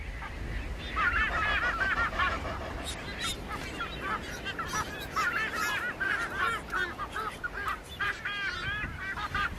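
Masked boobies call in a seabird colony on flat ground atop sea cliffs, a chorus of repeated honking, goose-like cries rising and falling in overlapping bursts over steady background noise.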